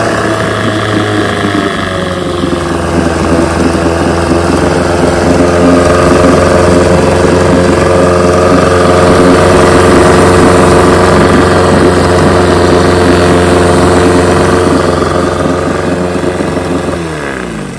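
A 1972 Evinrude 9.5 HP outboard motor running in a test barrel, a loud steady idle hum with a slight pitch shift early on, continuous and close until it cuts out at the end.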